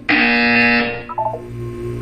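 Buzzer from the video game Portal 2, a loud sustained electronic buzz lasting about a second, followed by fainter short electronic tones.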